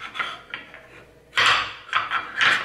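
A cutlery set handled during a home decor unboxing gives off several short bursts of metallic clinking and rattling, close and fairly crisp, with quiet gaps between the clusters and no voices.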